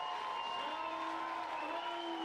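Ballpark crowd on its feet after a grand slam in a 57's vs Gulls game, continuous distant applause and scattered whoops blending into a steady roar.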